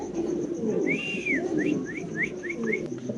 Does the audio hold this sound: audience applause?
no